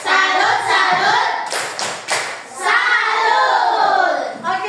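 Classroom group performs the 'tepuk salut' clap chant, a rhythmic pattern of hand claps from students mixed with chanted voices, steady and fairly loud throughout.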